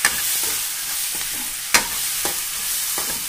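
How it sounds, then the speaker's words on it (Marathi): Chili powder, one spoonful, stirred into a frying mixture in a pan: steady sizzle with a few sharp spoon scrapes and knocks against the pan, fairly close, no talking. "त्यानंतर मी त्याच्यामध्ये 1 चम्मच मिरची पावडर ॲड करणार आहे आणि आपण ते छान प्रकारे हलवून घेऊ"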